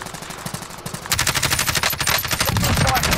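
Dense automatic gunfire in the Call of Duty Warzone battle royale game, a steady rapid rattle that grows louder after a quieter opening and keeps firing continuously.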